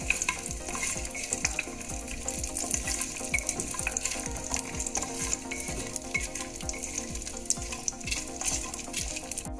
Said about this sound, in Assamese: আমাৰ কাজু আৰু কিচমিচ 2 মিনিটৰ বাবে ভাজি ল'লোঁ